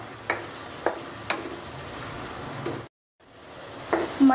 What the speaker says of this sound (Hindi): प्याज के गोल्डन ब्राउन हो जाने के बाद 2 बड़े टमाटर की प्यूरी बनाकर डाल देंगे। भून लेंगे अच्छी तरह से